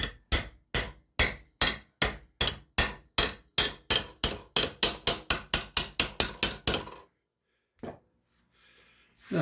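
Rhythmic hammer strikes bend an annealed aluminum barn door hanger, with about twenty-five sharp close blows that speed up before stopping, followed by a lone tap and near silence.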